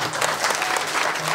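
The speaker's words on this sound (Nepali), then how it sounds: "हम सब लोग ताली बजाएंगे" A wedding congregation claps together at a church marriage ceremony, a dense, steady wash of many hands filling the room for a short burst.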